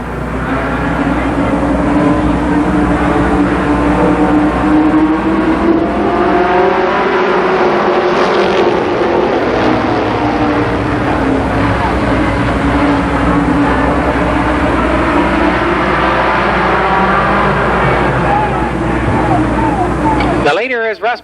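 Mini stock race cars lap Columbus Motor Speedway, their engines a steady, loud, continuous drone with rising and falling pitch as the pack circles, and a track announcer talking over the noise throughout.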